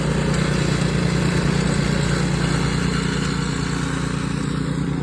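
A big snow blower runs steadily while clearing snow on a cattle farm, its engine droning loud and continuous throughout with no talk.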